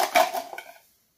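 A metal spoon clinks and scrapes against a pot a few times in quick succession while salt is added, close and clear, then fades to silence.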